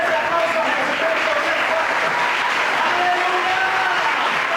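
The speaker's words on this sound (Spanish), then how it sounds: "Ese aplauso a Jesucristo." A church congregation applauds in praise of Jesus Christ, a dense steady wash of many hands clapping, loud and continuous, with faint voices mixed in.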